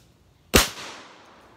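A single sharp semi-automatic shotgun blast rings out once at moderate distance, followed by a short fading echo across an outdoor range.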